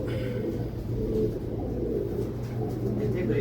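Pigeons coo in low, steady murmurs at a rooftop loft, a continuous close rumble of soft calls with no talking over it.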